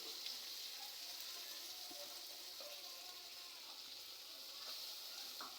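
Water poured into frying masala of cumin, onion and ginger gives a faint, steady hiss and sizzle with a few soft splashes and clicks throughout, no voices.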